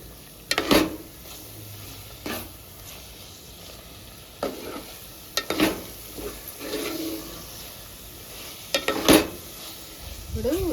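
Mutton drumstick curry being stirred in a hot pan with chilli powder, a steady sizzle broken by several sharp scraping strokes of the spoon, close and fairly loud with no talking.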